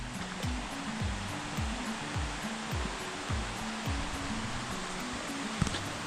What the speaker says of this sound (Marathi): हा व्हाळातल्या पाण्याचा आवाज आहे